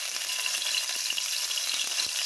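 Garlic fries in hot oil with a dense, continuous crackling sizzle, close and even, with small pops scattered through and no voices.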